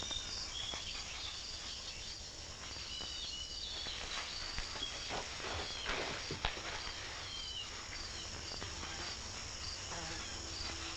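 Crickets chirp steadily in a dense outdoor chorus, with faint scattered rustles and footsteps underneath and no talking.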